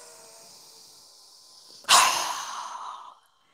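A strong, sudden exhale through a wide-open mouth during yoga breathing practice, one forceful breathy rush that fades over about a second after a quiet lead-in, close and alone.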